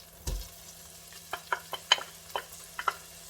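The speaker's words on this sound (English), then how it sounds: "I'm adding in my butter. And I'm gonna start with my onions" Onions sizzle softly in melted butter in a pot, with a few quiet stirring clicks and scrapes at an even pace, faint and close.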